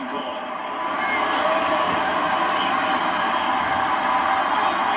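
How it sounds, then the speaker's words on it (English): Stadium crowd in an NFL video game, Dolphins at Patriots, roars in steady disapproval after a roughing-the-passer penalty, a broad sustained wash of many voices that swells after the first second and holds loud throughout. "this crowd does not like that call"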